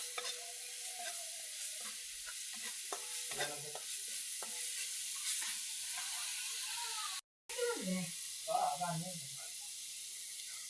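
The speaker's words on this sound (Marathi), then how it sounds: "गरम मसाला आपल्याला टाकायचा आहे त्यात तो पण असा छान भाजून घ्यायचा आहे गरम मसाला" Garam masala roasting in a pan while stuffed okra is cooked, a soft continuous sizzle with scattered stirring scrapes, quiet and close, and a voice speaking near the end.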